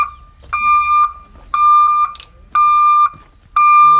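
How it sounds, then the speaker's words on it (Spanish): A tractor-trailer truck's reverse alarm beeps steadily during a driving test check, giving a loud, regular series of long electronic tones with short gaps between them, heard alone. "verificamos de que la alarma esté funcionando."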